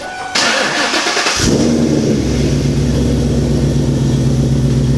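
Newedge Mustang quad engine cranks over with a loud starter whir, then catches and settles into a steady, close, mid-pitched idle that keeps running without pause.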